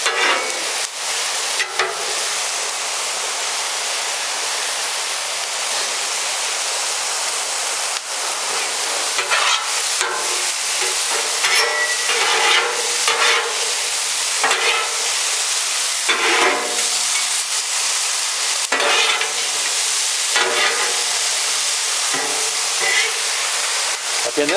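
Onions frying on a Blackstone flattop griddle, a loud, close, steady hiss with repeated bursts of crackling and scraping as they are turned.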